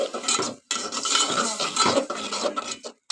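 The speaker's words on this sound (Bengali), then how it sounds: "মশলাটা এখন কষার জন্য নাড়াচাড়া করছি" Potatoes and spices being stirred in a pan during cooking, a close, continuous scraping and rattling of a utensil against metal, broken by one brief pause.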